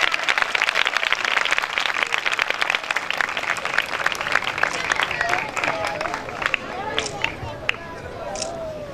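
At a township church program, a gathered congregation breaks into dense, sustained applause. Many hands clap loudly and continuously, and a voice speaks over the tail as the clapping eases slightly.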